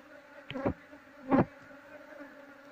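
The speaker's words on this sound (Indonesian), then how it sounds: "Ini koloni lebahnya masih bingung mencari keberadaan sarang." Honey bees from a colony being moved to a new hive box buzz in two brief, close passes, separated by quiet low background noise.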